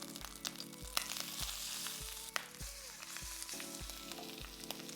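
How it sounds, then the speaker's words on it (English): Lobster sizzles steadily in a hot pan for a Cajun butter scampi, a dense continuous fry with faint stirring clicks and a few brighter pops, close and moderately loud with no talking. "I'm just gonna drop that lobster right on in."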